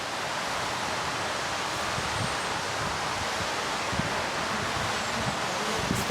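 Wind blows outdoors in a steady, rushing broadband hiss with soft rustling and low buffeting gusts, continuous and fairly close throughout.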